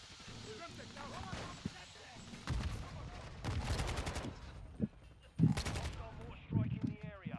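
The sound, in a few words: mortar strikes in video game Modern Warfare II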